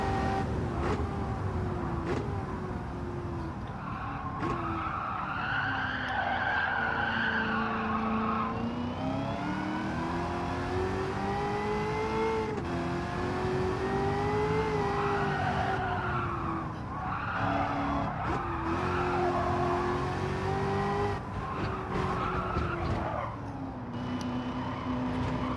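A fast lap around a track, with the engine droning steadily and rising and falling in pitch through the corners while the tires skid and squeal at length, with no talk over it.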